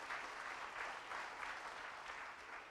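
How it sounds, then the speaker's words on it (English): Soft, distant applause from a large audience at a students' conference, an even, sustained patter of clapping with gentle swells. "Now you all are applauding too much."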